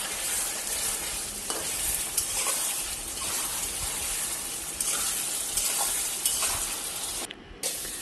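Chicken frying in a pan for Mughlai chicken with cardamom, cashews and cloves, a steady close sizzle with intermittent scraping and stirring strokes.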